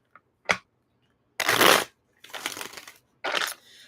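Cards shuffled in several separate bursts: a couple of small taps, then three loud riffling shuffles close to the mic, with short silent gaps between.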